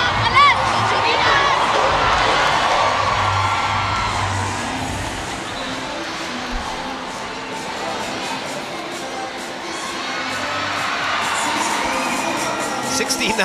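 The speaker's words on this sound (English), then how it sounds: "the crowd asking for CC Rondina, and CC just waves to everybody" Volleyball arena crowd at an AVC Challenge Cup 2024 pool match, Chinese Taipei versus the Philippines, cheering and shouting loudly and steadily throughout, swelling again near the end, with excited children's voices mixed into the roar.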